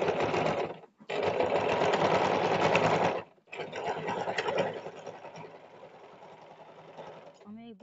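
A sewing machine stitches elastic onto a skirt in loud continuous runs with two brief pauses, then a lighter stretch of stitching under a voice.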